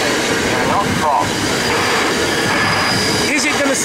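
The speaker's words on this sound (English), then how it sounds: "Another train approaching." A train rolls through a level crossing on Collins Ave in Linden, a loud continuous roar with squealing wheels and rhythmic clatter close by, as an automated warning voice and people talk over it.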